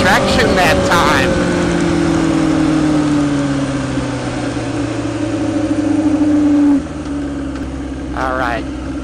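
A street legal drag motorcycle engine runs loud and close with a steady droning tone that slowly falls in pitch before dropping abruptly, with brief chattering bursts of higher sound at the start and end.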